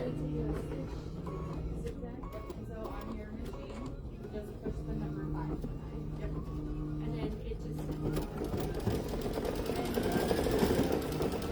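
An embroidery machine stitches a ghost shape on a bookmark, a steady rhythmic mechanical hum and chatter with repeating pulsed patterns that grows busier toward the end, running under a person's speech.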